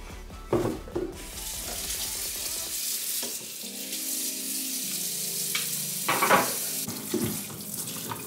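Broccoli and cauliflower rinsed under a running kitchen tap, water splashing and gurgling onto the florets with shifting pitch as the stream hits them, close and moderately loud, with brief clattering moments.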